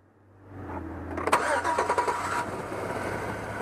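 A car engine cranks and catches, with a brief starter whir building into a rough running engine that settles to a steady idle, up close, during diagnosis of a random multiple cylinder misfire with a noid light on the fuel injector connector.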